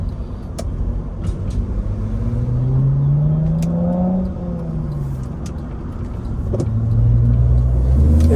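A 1997 Acura CL four-cylinder car driving, heard from inside the cabin as a steady engine and road drone that rises in pitch as it accelerates, drops back, then climbs again toward the end.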